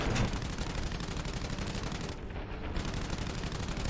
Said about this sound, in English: I do have a machine gun.